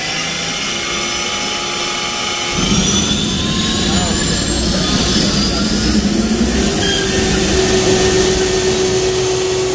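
A car-mounted gas turbine aircraft engine: a steady, smooth turbine roar with a high whine, jumping louder after a couple of seconds and then holding constant.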